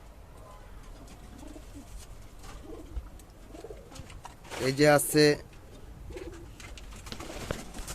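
A pair of Giribaz pigeons coo in a short rolling burst at close range, surrounded by faint background noise and brief talk before and after.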